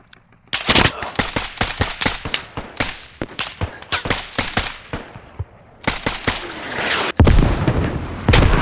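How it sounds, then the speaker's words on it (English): Video game firefight with the enemy: rapid bursts of loud, close gunfire crack in irregular volleys, sharp repeated shots with brief gaps, ending in a heavier blast and sustained roar. "I exchange fire with the enemy"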